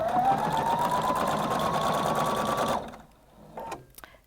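A Husqvarna Viking Designer Brilliance 80 sewing machine runs a steady, fast whirring stitch while sewing on sequins, then stops abruptly, leaving a quiet pause with a few faint clicks and handling noises.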